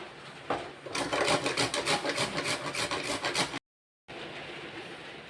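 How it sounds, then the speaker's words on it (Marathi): Coconut being grated by hand for crispy modak filling, a steady rasping scrape repeated in quick strokes, close and fairly loud, with a brief silent gap before the scraping resumes. "मग हे असं खोबरं किसून घ्यायचं आपल्याला"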